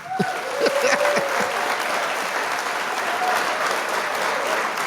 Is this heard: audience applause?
yes